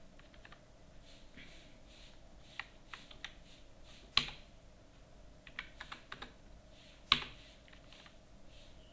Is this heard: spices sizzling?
no